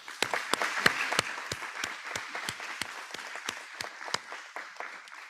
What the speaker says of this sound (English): With gratitude, let us give them a round of applause.